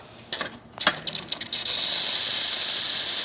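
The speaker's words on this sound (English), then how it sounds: "Let's test the steam. Nice" The steam wand of a Nuova Simonelli Musica espresso machine opens after a few mechanical clicks and knocks, then lets out a strong, steady, close hiss that continues to the end.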